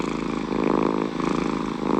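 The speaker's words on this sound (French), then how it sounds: "Il montre à quoi ressemble un ronronnement plutôt bruyant." A loud, steady cat purr, close up, with a rough rumbling pulse that swells and eases with each breath.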